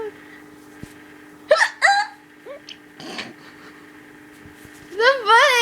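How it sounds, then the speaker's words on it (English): Several sharp, high, squeaky hiccups come from a woman in quick bursts, scattered between quieter breathy sounds and a short exhale in a quiet room. "I think my hiccup's cute."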